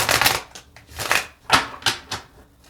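Tarot cards being shuffled by hand, a handful of quick riffling bursts close up, each a short papery flutter separated by brief pauses.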